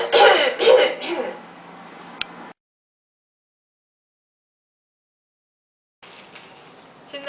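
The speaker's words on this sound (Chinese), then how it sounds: "闭气约3到5秒，腹部用力做咳嗽动作" A patient, after a slow deep breath, gives a few deliberate forceful coughs close up while pressing hands on a wound. A long silent gap follows, then faint movement noise.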